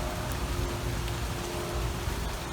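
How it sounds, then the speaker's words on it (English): Steady rain falls outdoors at a rental property being cleaned up, a dense, continuous hiss of drops hitting surfaces with no pauses and no voices. "It started raining on us"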